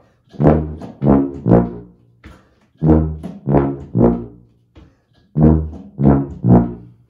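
Sousaphone or tuba playing a bass line walk-down in three short groups of descending notes, each group a quick run of loud, close, buzzy brass tones separated by brief pauses.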